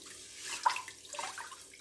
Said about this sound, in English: So I put some cold water in and I'll just swish it around in my hand.